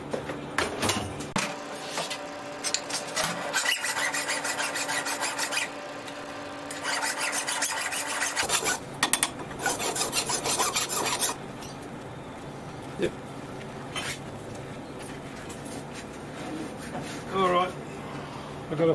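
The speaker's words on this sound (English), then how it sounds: "File these or grind these down." Hand filing of metal lawnmower height adjustment pins, heard as repeated rasping strokes in bursts with pauses between them, fairly close and moderately loud.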